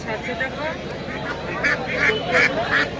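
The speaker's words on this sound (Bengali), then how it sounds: "হাঁস মুরগির বাজারে এন্ট্রি করলাম" Ducks and geese quack and honk repeatedly amid a busy crowd of voices, a loud, continuous din at an animal and bird market in Bangaon, West Bengal.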